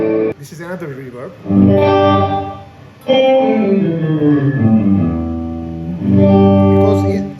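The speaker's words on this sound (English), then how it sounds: "dry signal, only we hear only the reverb." Another guitar reverb effect heard wet only, swelling chords with smeared, echoing decay in separate phrases, loud and close, with brief gaps between strums.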